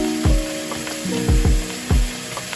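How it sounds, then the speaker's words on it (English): Onion and toasted rice hitting hot olive oil in a pan for pumpkin risotto, with short bursts of sizzling and stirring knocks repeating every half second or so, close and fairly loud over a low kitchen hiss. "We are taking the other half of the onion with some olive oil and then add the toasted rice"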